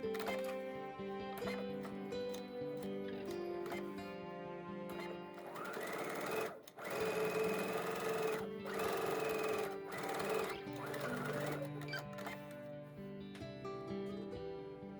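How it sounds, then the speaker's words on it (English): A sewing machine stitches two parallel lines alongside a zipper, its steady running hum continuing under music, briefly pausing about midway before resuming. "Now sew 2 parallel lines, 5 millimeters away from the center line on each side."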